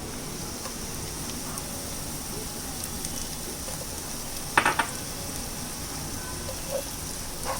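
Slit green chilies sautéing in a pan for dhaba-style palak paneer, a constant dense sizzle with a brief clatter of a utensil midway, no voices.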